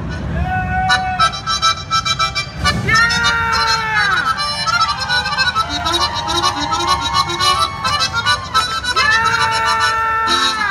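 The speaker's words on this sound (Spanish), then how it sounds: "para que suenen como suena un acordeón cantabela tejano" Tejano cantabela button accordion played live in an accordion battle at a San Antonio fan fair, bright sustained reedy melody lines with chordal bellows swells, loud and close throughout with steady rhythm.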